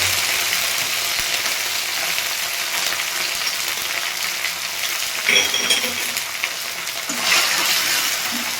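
Ginger and chili paste sizzle in hot oil in a pan, giving a steady, close frying hiss with brief louder bursts as the paste is stirred.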